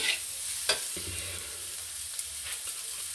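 Figs fry in a pan of oil with cumin and green chilli for a moong dal and fig curry, giving a steady close sizzle with a few sharp spatula scrapes and clicks, and no voices.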